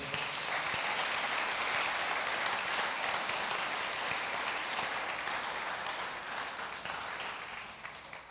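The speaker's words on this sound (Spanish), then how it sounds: "Le puedes dar un aplauso al Señor por eso." Dense, sustained applause from a church congregation fills the space, steady throughout and easing slightly toward the end, with no speech over it.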